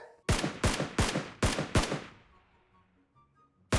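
Five rapid, loud gunshots ring out in PUBG Mobile gameplay, evenly spaced over about two seconds, each with a sharp crack and short decaying tail, followed by quiet game ambience.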